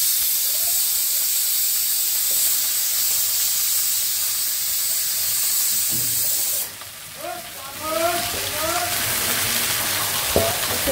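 Chopped kochu greens hit hot oil with frying onions, garlic and chilli, giving a steady loud sizzle and hiss that briefly drops and then flares again with stirring, close by, while someone talks over it.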